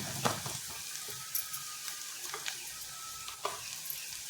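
Garlic fries in hot tempering oil for a Konkani jackfruit bhaji, giving a steady close sizzle with several sharp crackling pops and faint stirring.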